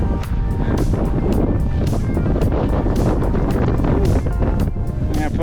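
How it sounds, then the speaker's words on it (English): Strong mountain-ridge gusts near the saddle of the Humphreys–Agassiz ridge buffet the microphone in a steady, loud roar with repeated thumping bursts, no speech. "It's a little windy."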